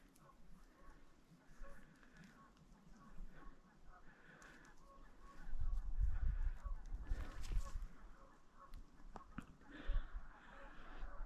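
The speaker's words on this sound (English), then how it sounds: "Oh, there's some geese." Faint, distant geese honk now and then over outdoor ambience, with people talking quietly nearby.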